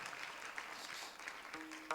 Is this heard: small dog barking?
no